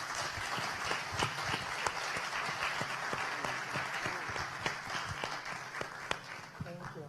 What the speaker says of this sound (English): let's share our enthusiasm with this panel by giving them an